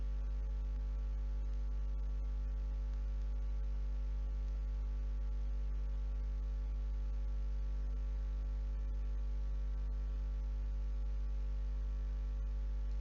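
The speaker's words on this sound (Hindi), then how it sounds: "अब हम एसी को चला लेते हैं।" A home split air conditioner runs after being switched on during a DIY service, giving a steady low electrical hum with faint static, constant and unchanging throughout with no talk.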